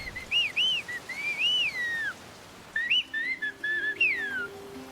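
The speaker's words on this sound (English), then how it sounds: "they can actually whistle conversations and new things" Chinantec whistled speech rings out in wet, rugged highland country, a series of clear, gliding whistled phrases with rising and falling contours, close and fairly loud over a quiet background.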